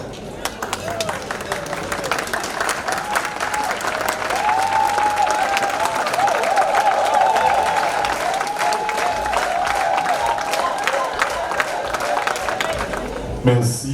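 A gala dinner crowd in Queens, New York, claps in sustained, dense applause lasting many seconds, loud and close, with light chatter and an occasional voice mixed in.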